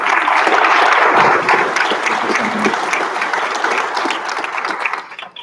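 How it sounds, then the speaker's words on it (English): Loud, sustained applause from a crowd at a physician assistant white coat ceremony fills the room, holding steady for several seconds before tapering off at the end. "Another round of applause for Maggie."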